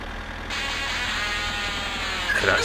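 Tractor engine from the My Summer Car driving game, a steady mid-range drone that jumps to a brighter, harsher roar after the first half second and then holds level, with no voices.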